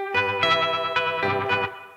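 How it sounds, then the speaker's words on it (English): Rotary Leslie-style phaser from a Black Sun RotoPhaser pedal with its own slight overdrive, swirling over a sustained chord that swells and pulses in waves, close and loud, then fades out at the end. "because it's doing this rotary phaser, it automatically sounds slightly overdriven. It sounds like that Leslie speaker."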